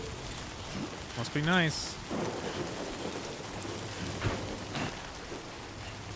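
Timefall rain pours steadily in the Death Stranding 2 video game, a constant broadband hiss with a low rumble like distant thunder, while someone speaks briefly and a chirping electronic tone sweeps through.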